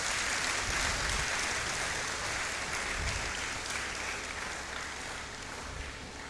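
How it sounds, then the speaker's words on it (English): Audience applause for a lecturer at an inaugural university lecture on climate change, a dense, steady wash of many hands clapping that stays loud throughout and eases slightly toward the end, with no voices over it. "let's give her another round of applause"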